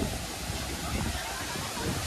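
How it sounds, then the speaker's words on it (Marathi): Water pours down Savdav waterfall near Kankavli, a dense, unbroken roar heard close by, steady and loud throughout. "धबधब्याचं पाणी खाली ओथंबतंय"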